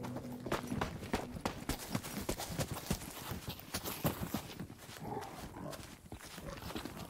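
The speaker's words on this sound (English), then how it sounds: "I'm sure I heard footsteps in it." Footsteps sound in The Cycle: Frontier, a quick, steady run of sharp, crunchy treads moving close by, fairly loud and persistent across the stretch with brief uneven bursts.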